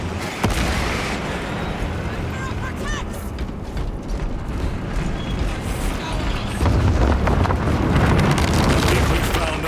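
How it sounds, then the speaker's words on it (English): Frag grenade explosion in the video game Space Marine 2, a loud boom within a dense, continuous battle din of gunfire and mechanical clatter, with a voice speaking over it. "Frag grenade out!"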